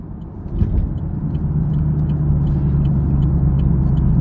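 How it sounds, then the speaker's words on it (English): Interior of a moving car, a steady low engine and road rumble that builds slightly and then holds, with faint clicks and knocks above it. "Slow this damn car down before I get mad"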